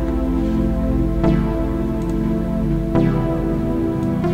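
A beat processed with the FL Studio stock blur white preset produces a hazy, cloud-like wash, with a steady dense rumble and two soft smeared hits sinking into the haze.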